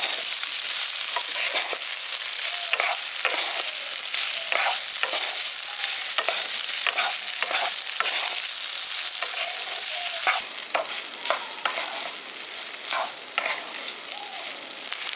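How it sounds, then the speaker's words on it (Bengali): Lemon rice stirred in a pan over medium gas, a continuous hiss of frying under repeated spoon scrapes and taps against the pan at an uneven rhythm, close and steady, with no voices. "এবার ভালো করে মিশিয়ে দিচ্ছি।"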